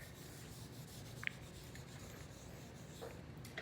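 Marker writing an equation on a classroom whiteboard, a quiet, continuous rubbing stroke with a couple of faint taps, heard close over a low room hum and no talking.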